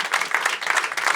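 An audience at a live French-language podcast taping applauds two guests, with lively uneven clapping in bursts that sounds close and fairly loud for a brief moment.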